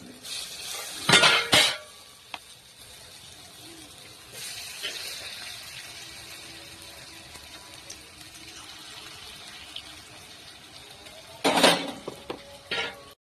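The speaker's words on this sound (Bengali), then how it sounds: "বড়াগুলো একটা একটা করে দিয়ে গ্যাসটা কমিয়ে রেখে আস্তে আস্তে করে দিয়ে ভেজে নিতে হবে।" Malabar spinach leaf fritters fry over a low flame with a faint, steady sizzle, broken near the start and again near the end by loud bursts of utensil clatter against the pan.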